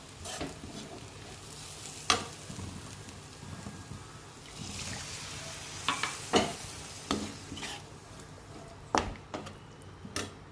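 Biryani masala and water stirred in a pot over a low flame, a spoon scraping and clacking against the metal in irregular knocks over a steady soft simmering hiss.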